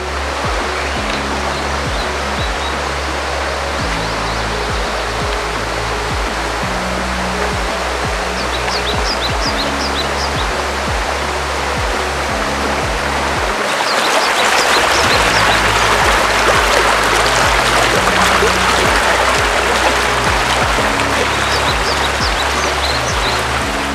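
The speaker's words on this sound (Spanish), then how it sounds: "el agua no se queda estancada, siempre está fluyendo hacia el río, cayendo desde el cerro que está al frente." Water flows steadily and falls from the hillside opposite into a river in Atlamolonga, Teloloapan, Guerrero, making a continuous rushing wash that swells louder in the second half, with birds chirping faintly above it.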